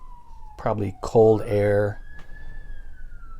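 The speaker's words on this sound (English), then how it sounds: "you guys can probably hear the ambulances outside" A distant ambulance siren wails steadily outside near a hospital, faint and sliding in pitch, while someone talks briefly over it in the foreground.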